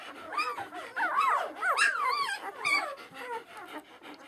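Four-day-old puppies whimpering and yipping together in a litter, a dense cluster of high, wavering cries close by, continuous and fairly loud throughout.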